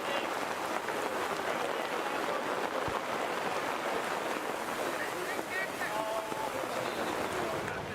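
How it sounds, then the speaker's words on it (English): Heavy rain pours down steadily, a dense constant hiss and patter with wind buffeting the microphone and faint voices in the background. "The bad news is it's raining like you've never seen."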